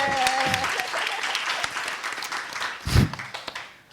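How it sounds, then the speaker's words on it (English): A crowd claps for a keynote guest at a conference conversation, a busy spread of applause with a louder swell near the end before it thins out. "big round of applause for Heli"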